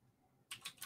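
Quick keystrokes on a computer keyboard while entering Windows Subsystem for Linux commands, a short burst of several crisp taps following a quiet pause, close and alone.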